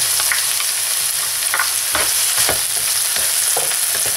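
Chopped onion, garlic and tomato fry in a hot pan, giving a steady, close sizzle with occasional stirring scrapes and crackles throughout, no voices.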